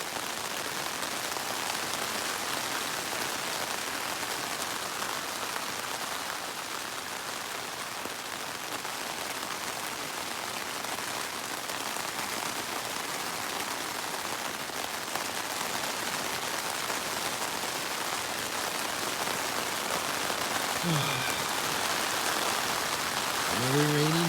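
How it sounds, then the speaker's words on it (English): Steady rain falling at night along the Appalachian Trail, a soft continuous patter on surfaces around a campsite, even and unbroken, with a brief voice near the end. "Another rainy night."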